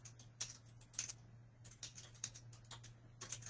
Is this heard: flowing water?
no